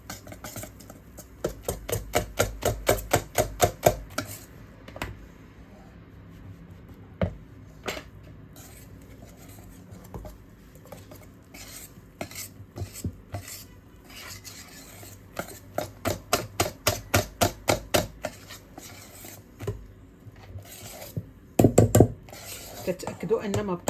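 A utensil mixes marble cake batter with added yeast in a bowl, giving runs of rapid scraping and clinking strokes against the bowl, close up, broken by pauses and occasional louder knocks.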